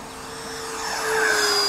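A pulse jet RC model plane flies past, its buzzing drone rising steadily in loudness as it approaches, with a thin whine riding over the rough engine noise.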